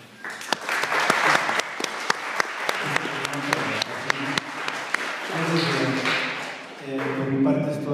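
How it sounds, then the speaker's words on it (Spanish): Audience applause in a hall, dense clapping for about eight seconds with music or voices rising underneath toward the end. "Aquí le pido un aplauso"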